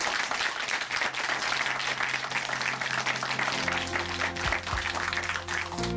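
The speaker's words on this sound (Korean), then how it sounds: "다시 한번 우리 형제님께 큰 박수 보내드리겠습니다." Church audience in Chuncheon applauding after a testimony program; dense, even clapping from a full room, with sustained keyboard tones starting to sound beneath it midway while the applause carries on.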